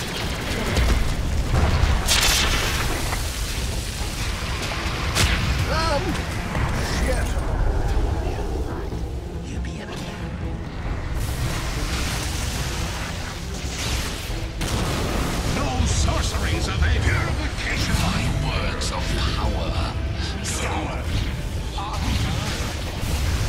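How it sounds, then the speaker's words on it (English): Tower combat in a professional Dota 2 match sets off repeated booming impacts and volleys of explosive fire, loud and nearly continuous over a dense battle din, with a voice speaking at times. "bottom tower is under attack"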